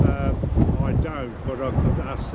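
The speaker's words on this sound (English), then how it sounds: "it's a windy day today, isn't it?" Wind rumbles and buffets the microphone outdoors on a windy day, a low, continuous roar beneath people talking throughout.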